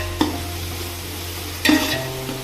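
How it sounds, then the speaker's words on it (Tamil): Shallots sauté in hot oil in a pan for biryani, with a steady sizzle and two sharp stirring scrapes, close and alone. "வெங்காயம் நல்லா வதங்கிடுச்சு"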